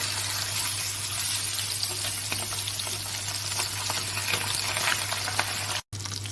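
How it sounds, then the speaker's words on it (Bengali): Pabda fish fries lightly in hot oil, giving a steady, dense sizzle with crackling pops and a low hum beneath that continues almost without a break. "মাছটা আমি হালকা ভেজে নেব, বেশি ভাজলে খেতে ভালো লাগবে না।"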